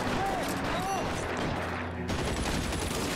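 Rapid machine gun fire in the video game L.A. Noire rattles through a dense, noisy gunfight, with bursts stacking into a continuous clatter amid other game sounds.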